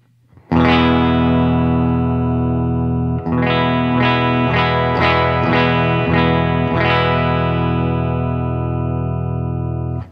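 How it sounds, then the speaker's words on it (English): An electric guitar plays through a modified Boss GE-7 EQ pedal with a thick, distorted tone: a long sustained chord, then a series of rhythmic chord stabs, loud and ringing with no talking. "And so the new sound with the EQ engaged."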